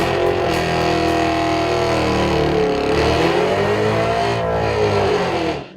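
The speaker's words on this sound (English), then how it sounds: "finally our very first nitrous pass" A nitrous-fed muscle truck launching down a drag strip, its engine roaring loud and close and climbing steadily through the revs for several seconds before cutting off abruptly.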